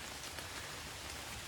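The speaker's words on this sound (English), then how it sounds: "As long as it just stays drizzling." Light drizzle falls outside a trail shelter, a steady, soft hiss of rain without pauses or voices.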